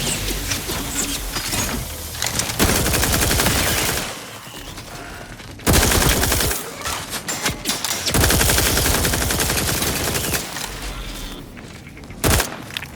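Sustained automatic gunfire in The Outer Worlds 2, long loud bursts broken by brief pauses, with a few single sharp shots near the end.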